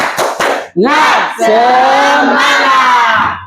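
A class of young students at an Islamic junior high school shouts loudly in unison, a few quick claps leading into a sustained, energetic spirit chant that fills the room.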